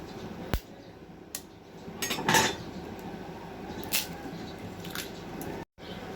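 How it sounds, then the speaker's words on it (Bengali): Eggs are cracked onto khichdi in a pan: a sharp tap, a few clinks of utensils against the pan, and soft wet squishes and splats, close and fairly quiet. "এর উপরে ডিম ফেটিয়ে দিব।"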